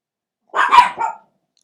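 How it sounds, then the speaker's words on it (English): Dogs barking in a short burst, a couple of close, loud woofs running together and cutting off abruptly, with silence before and after. "dogs join in"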